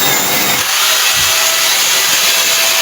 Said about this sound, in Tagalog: gagamit lang ako ng lagare